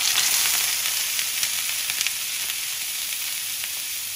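Sous vide London broil searing in a hot, smoking oiled pan, a constant bright sizzle heard close and alone with faint crackles.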